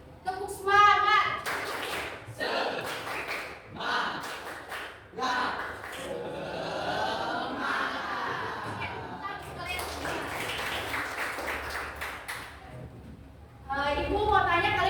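Schoolchildren in an Indonesian classroom join their teacher in a rhythmic clapping chant, bursts of claps and sharp taps mixed with the teacher's instructions and the children's chanted voices.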